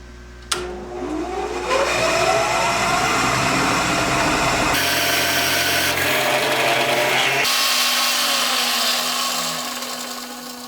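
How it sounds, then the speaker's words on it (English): A heavy-duty three-phase drill press spins up with a sharp start, then a steady loud motor whine with grinding bursts as the bit cuts through aluminum, fading at the end. "I have a heavy-duty three-phase drill press here"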